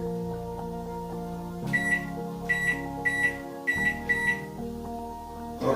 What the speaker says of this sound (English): Put it in the microwave for 40 minutes.